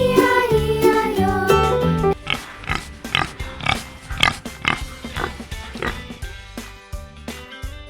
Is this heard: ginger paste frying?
no